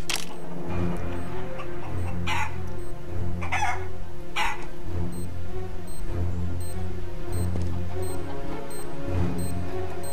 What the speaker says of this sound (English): That chicken is a spy.